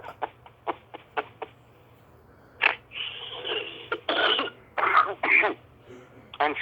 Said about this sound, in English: I'm sorry about this cough.